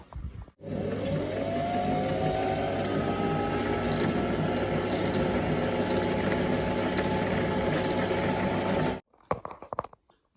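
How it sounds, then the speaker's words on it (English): A sewing machine stitches car seat upholstery for a Lamborghini Countach in one continuous, even mechanical whir of about eight seconds, starting and stopping abruptly, followed by a few soft handling clicks and no talk. "do some sewing"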